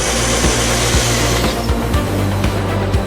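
CNC machine cutting a replacement engine part, a piston, for a Tiger I tank: a loud, steady mechanical whir with regular clicks about twice a second, with no talking.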